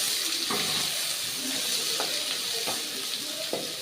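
Onions sizzle in a pan after mustard seeds have popped, a steady frying hiss with soft periodic scraping from stirring about every half second.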